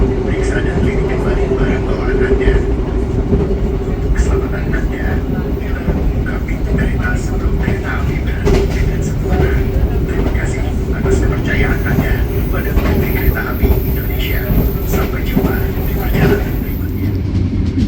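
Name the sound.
Argo Merbabu passenger train interior, arriving at Karawang station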